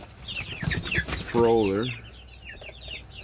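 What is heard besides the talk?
rooster clucking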